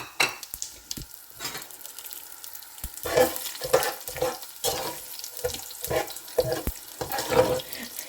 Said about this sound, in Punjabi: ਆਇਲ ਗਰਮ ਹੋ ਗਿਆ। ਸਾਰਾ ਸਾਬਤਾ ਗਰਮ ਮਸਾਲਾ ਅਸੀਂ ਇਹਦੇ ਵਿੱਚ ਸੁੱਟ ਦੇਵਾਂਗੇ।